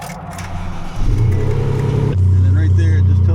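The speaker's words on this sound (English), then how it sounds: "Gives you 30 seconds to start the engine" A truck engine cranks briefly, then catches and settles into a steady, loud idle close by, with a rough mechanical churn before the start and a smooth hum after.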